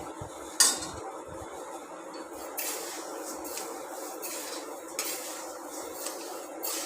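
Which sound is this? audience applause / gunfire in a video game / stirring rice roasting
stirring rice roasting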